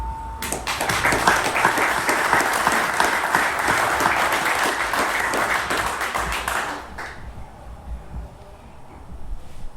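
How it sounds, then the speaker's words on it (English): An audience at a motocross history talk breaks into loud, sustained applause that swells and then cuts off abruptly after about seven seconds, leaving a quieter room with scattered murmurs. "give a shout out and a round of applause for all those guys I mentioned"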